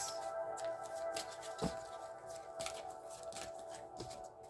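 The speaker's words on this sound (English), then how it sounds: "I'm just going to shuffle one more time" Tarot cards are shuffled by hand close by, giving a quiet run of soft papery riffles and light taps at an uneven rhythm, with no voices.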